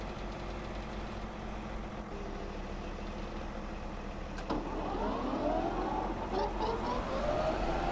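A steady, droning small lawnmower engine in the video game Farming Simulator 17 runs continuously, growing slightly louder and rougher partway through, with no voices.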